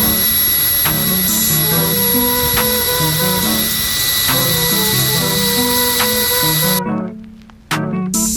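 A Makita DHP484 brushless cordless hammer drill runs close and loud with a steady high whine, its pitch stepping repeatedly as the speed changes, then cuts off near the end before a brief restart.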